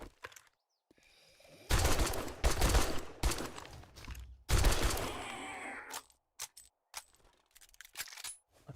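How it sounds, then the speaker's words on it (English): Automatic gunfire from a machine gun in the survival game 7 Days to Die: several loud, close bursts, each a dense rattle of rapid shots, separated by short pauses, with no talking. "I think machine gun's so good."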